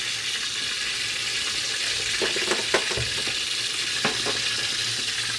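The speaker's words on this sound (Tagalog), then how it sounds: "Nagpiprito na rin po tayo ng ating pritong manok at pritong pork chop" Chicken and pork chops fry in a pan of hot oil, a steady dense sizzle throughout with a few sharper pops and spatters, close and fairly loud, no voices.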